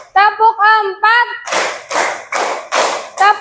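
A group of people clap their hands in a steady rhythm, with five loud, evenly spaced claps after a short sung or chanted vocal phrase.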